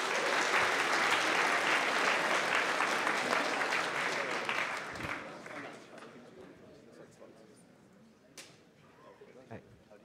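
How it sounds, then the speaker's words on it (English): An audience at a hackathon opening ceremony applauds as speakers are welcomed to the stage: dense, sustained clapping from a crowd that gradually thins and fades over several seconds into a quieter room with scattered sounds. "please give them a round of applause and welcome them to the stage"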